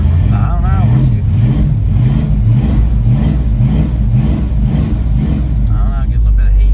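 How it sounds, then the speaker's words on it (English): A car engine, fitted with colder spark plugs, runs loud and close with a low droning idle that swells in a repeating wave as the throttle is quickly patted to keep it running. "I'm like just patting the throttle real quick, try to keep it running"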